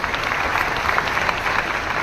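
An audience at a Delhi ceremony, where nursing officers receive appointment letters, claps continuously. The applause is a dense, steady patter throughout, with no clear voices over it.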